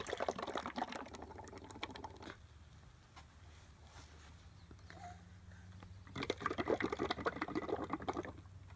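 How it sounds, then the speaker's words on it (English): Bubbly gurgling from air blown through a straw into cups of paint, in two bursts separated by a quieter pause. "So blow up a bunch of bubbles in each cup."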